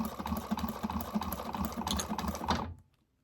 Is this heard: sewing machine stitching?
yes